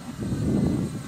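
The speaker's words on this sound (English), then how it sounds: "I hear an airplane. That's a regular airplane." An airplane flies high overhead, a low, steady rumbling drone that is fairly loud and continuous, with no voices.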